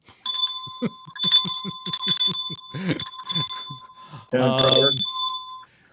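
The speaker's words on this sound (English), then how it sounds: "ring the bell" A small bicycle-style bell rings repeatedly in quick bright dings, ending in a longer sustained ring, while a voice talks over much of it.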